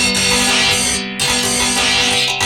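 A dense, bright wash of sound from a chord processed through resonators, with ringing metallic resonances, sustains loudly, briefly dropping out before swelling back in.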